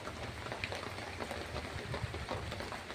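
Steady rain falling without a break since morning after a stormy night, a dense, even patter that holds close and constant with no one talking.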